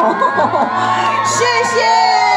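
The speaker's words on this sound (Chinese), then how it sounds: "是现场的掌声呢" A live crowd at a singer's autograph-signing concert in Kaohsiung cheers, whoops and shouts, with some children's voices, in a dense, loud, continuous wall of sound throughout.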